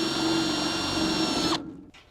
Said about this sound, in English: Now we're gonna rivet this thing together.